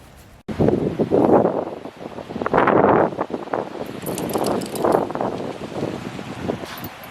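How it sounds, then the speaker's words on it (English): Gusting wind buffets the microphone outdoors in a fall garden, rising in loud, rumbling surges that swell and ease again in waves. "The wind is starting to pick up."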